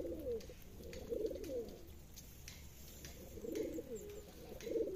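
Racer and giribaz pigeons coo in low, throaty, repeated phrases, close and fairly loud, with short pauses between bursts and soft background hiss.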